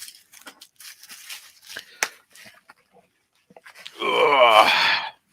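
Plastic bag packaging ripped open in one loud, rustling crinkle burst lasting about a second, following quieter scattered handling clicks and rustles at close range.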